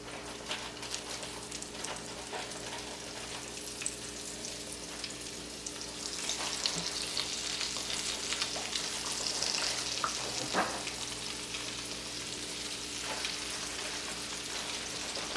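Breaded chicken fries in oil in a pot, a steady close sizzle and crackle with scattered pops that swells louder partway through.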